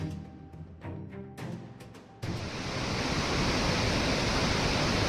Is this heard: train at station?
no